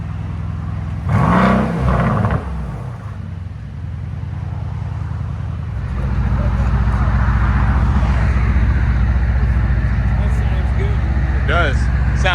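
A 2022 Mercedes GLC 63 AMG V8 with a muffler delete gives one loud rev, then settles into a steady, rumbling idle that rises to a heavier drone, recorded up close.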